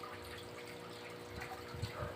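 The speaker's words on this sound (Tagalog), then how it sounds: "Lagyan natin tubig." Water runs steadily into a plastic ice bag, a continuous trickling gush that grows slightly louder toward the end, with no talk.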